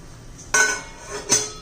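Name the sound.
lid placed on pot of tomato soup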